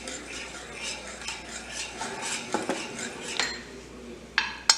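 Cheese sauce with milk being stirred in a pan, a spoon scraping and clinking against the metal in an irregular rhythm, close and fairly quiet, with a sharper clink near the end.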